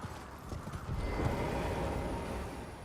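A horse's hooves clip-clop in the Elden Ring video game, a run of quick, close, soft thuds over a low rumble that grows slightly busier partway through.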